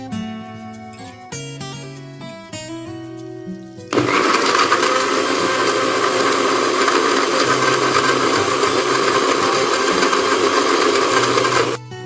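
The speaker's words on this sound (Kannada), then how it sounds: "ಇದನ್ನ ಇವಾಗ ಒಂದು ಜ್ಯೂಸರ್ ಜಾರಲ್ಲಿ ಹಾಕಿಬಿಟ್ಟು 2 ದೊಡ್ಡ ಚಮಚ ಜೇನುತುಪ್ಪ, 1 ಲೋಟ ಕಾಯಿ ಹಾಲು ಹಾಕಿಬಿಟ್ಟು ನುಣ್ಣಗೆ ರುಬ್ಕೊತೀನಿ" A blender grinds figs with honey and coconut milk in a juicer jar, starting abruptly after a few seconds of quiet and then running as a loud, steady whirring roar right up to the end.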